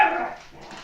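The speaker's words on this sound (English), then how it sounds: "Jeez, my dogs are going insane." Dogs bark and yip indoors, a brief close burst of barking that tails off into quieter whimpering noises.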